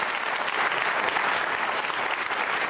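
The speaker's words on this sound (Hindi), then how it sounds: "तालियां जोरों से बजाइए" Loud, dense applause from the audience at a Ramadan-themed quiz show, continuous clapping filling the whole stretch without any speech.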